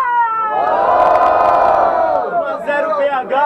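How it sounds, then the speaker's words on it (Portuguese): Crowd at a student freestyle rap battle in Guarulhos, São Paulo, roaring and cheering for a rapper, a loud sustained mass of shouts and whoops that dips toward the end as a few voices stand out. "quem gostou das rimas do Fuzuê faz muito barulho"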